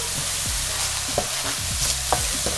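Onions, ginger and garlic sauté in hot oil for mango chutney, a steady sizzle under occasional soft scrapes of a spoon stirring the pan, close and with no voices.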